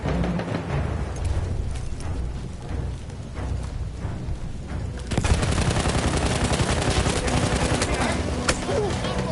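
Submachine gun fire in Battlefield 1, with scattered shots giving way to dense, loud rapid bursts and heavy battle noise in the second half.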